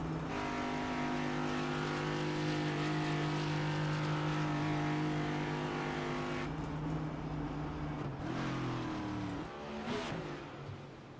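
Race cars rolling down pit lane in a racing game at a Nashville event, a steady droning engine hum holding for several seconds before shifting pitch and fading as cars pass into their boxes.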